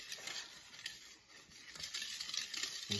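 Tocino mixture is stirred to dissolve sugar and salt, a quiet, close swishing and light scraping of a utensil in a bowl, continuous with faint clinks and no voices.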